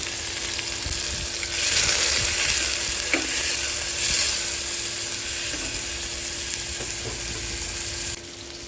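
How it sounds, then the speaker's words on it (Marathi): Onions fry in a hot pan for chicken pulao, a steady close sizzle with intermittent scraping and clinking as they are stirred, with a faint constant hum in the background. "कांदे को अच्छे से हिलाते जाओ"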